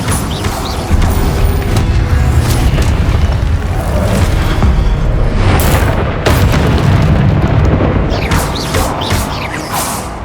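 Repeated Incendio fire spell blasts in Hogwarts Legacy, loud booming bursts and crackling impacts that follow one another over a busy, roaring combat background.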